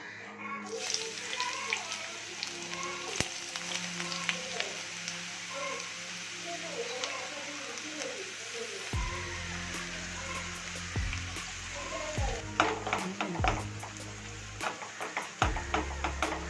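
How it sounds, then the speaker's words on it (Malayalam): Onions go into hot oil in a clay pot for a chicken curry and sizzle steadily, with scattered pops and clatters of stirring, while a voice talks over it at moderate volume. "എണ്ണ നന്നായി ചൂടായിട്ടുണ്ട്. ഇനി ഇതിലോട്ട് കുറച്ചായി സവാള ഇട്ട് കൊടുക്കാം."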